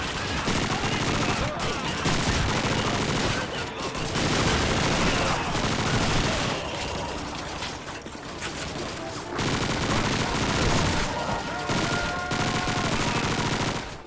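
Bursts of PPSh submachine gun fire and surrounding battle gunfire in Call of Duty 2's Stalingrad fighting, loud, dense and rapid, in long stretches broken by short pauses, with a voice talking over it.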